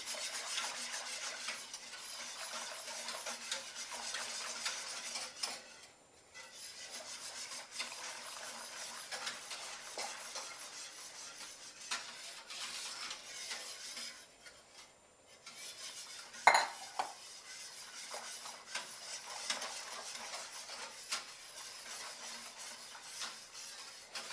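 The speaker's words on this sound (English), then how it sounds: "So what you do is you whisk in the skim milk powder." A whisk stirs skim milk powder into milk in a bowl, making steady scraping and clinking strokes that run continuously with brief pauses, close and alone without talk.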